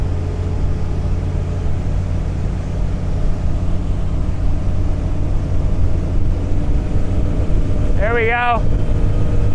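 A 2013 Bayliner 195 with a Mercruiser 4.3 engine running fast across the water, a loud, constant low engine roar mixed with wind rush, and a voice speaking briefly near the end.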